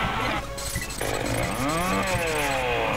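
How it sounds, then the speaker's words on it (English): A chainsaw in the Mushroom Kingdom Fusion video game roars continuously and loudly, its buzzing engine revving with rising and falling pitch sweeps throughout. "I want to kill him, and I want to get that chainsaw, and I want to test it."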